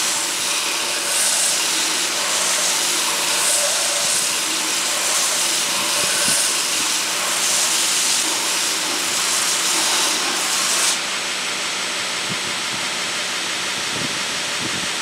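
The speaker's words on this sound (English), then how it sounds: "I'm going to put this on my belt sander and then try to reduce this down to a more nearly uniform thickness" A belt sander grinds down a steel knife blank for a prop knife, giving a loud continuous hissing abrasive roar that runs steadily, then drops slightly in brightness near the end, close up and with no talk.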